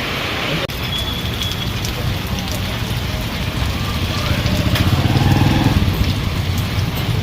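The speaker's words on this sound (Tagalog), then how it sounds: "Palakas ng palakas yung ulan." Heavy rain pours steadily on a roadside shelter in San Jose, Occidental Mindoro, a dense continuous hiss that swells slightly louder toward the end, with no voices over it.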